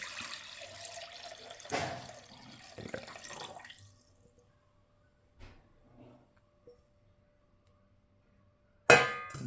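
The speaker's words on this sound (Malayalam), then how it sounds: "അങ്ങനെ കരിക്ക് വെട്ടി നമ്മൾ വെള്ളം എടുത്തിട്ടുണ്ട് നമുക്കിതേ ഈ ജാറിനകത്തോട്ട്" Tender coconut water poured into a jar, a close liquid splashing stream for a few seconds, then quiet with a couple of soft knocks and a sharp clang at the end.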